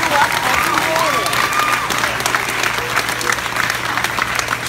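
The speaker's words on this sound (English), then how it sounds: "this nice round of applause does not wake you" Audience applause breaks out at a hypnotist's stage show, a dense, steady wash of clapping with some cheering voices mixed in, loud and close throughout.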